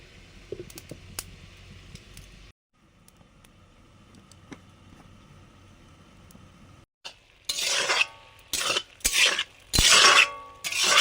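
A lid goes onto a pot of snake gourd and prawn curry topped with chopped coriander, simmering on low heat: quiet kitchen background, then several loud, close metallic clanks and clatters near the end.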